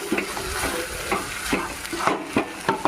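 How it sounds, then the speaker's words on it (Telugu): Boiled potato pieces are stirred into a bubbling potato kurma masala, giving repeated wet scraping and clattering strokes of a spoon against the pan over a soft sizzle. "మొత్తం ఒకసారి కిందకి పైకి కలిపేసుకుందాం."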